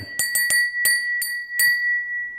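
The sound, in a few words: 24 karat gold inlaid lead crystal bell ringing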